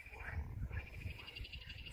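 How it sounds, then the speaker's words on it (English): Frogs calling at the flooded ruins of Kaunos near Dalyan, Turkey, in spring: a steady, dense chorus of croaks and trills, moderately close, with a high insect-like buzz running through it and faint talking underneath. "These frogs are out here making a ton of noise."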